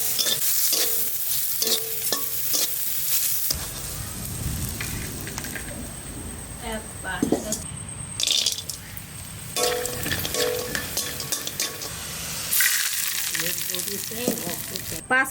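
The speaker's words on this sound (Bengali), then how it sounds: "ডালের বড়ি, এই দুটো একটু ভেজে নেব। তেল দিয়ে দিচ্ছি।" Lentil dumplings (dal bori) sizzle and crackle steadily in hot oil in a pan, with stirring scrapes and clinks breaking through the continuous frying hiss.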